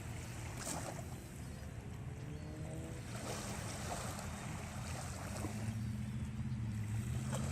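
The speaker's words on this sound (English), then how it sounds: "one more view of the Mississippi Sound with the waves crashing along the shore" Waves break along the shore of the Mississippi Sound in a continuous, fairly faint wash of surf, with soft swells and low rumbles rolling through and no one speaking.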